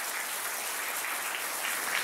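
A church production audience claps in a soft, even patter of applause that sounds somewhat distant and continuous throughout.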